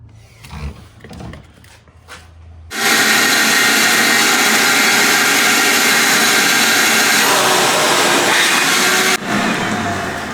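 Walnut media blasting of engine intake valves starts after some brief handling noises: a loud, continuous rushing air-and-grit hiss that runs steadily, dips briefly near the end, then resumes, close to the source.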